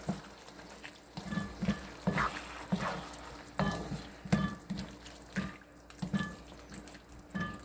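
Water is added to a pan of sweet and sour sauce for tilapia escabeche, with a soft sizzle and irregular stirring and liquid clinks at a faint, close level.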